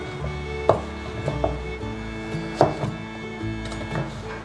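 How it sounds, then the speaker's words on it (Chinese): A knife chops through pumpkin on a board in a vegan home kitchen, with two sharp, loud thunks standing out among several softer knocks. "把南瓜切成大块状"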